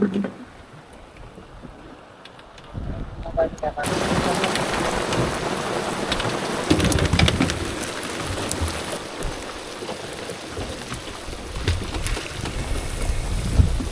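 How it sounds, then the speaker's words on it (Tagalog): Rain comes down hard and close in Santa Ana, Cagayan, Philippines, a dense hiss drumming on a surface, swelling suddenly after a quieter opening few seconds. "Umuulan, umaaraw, umuulan."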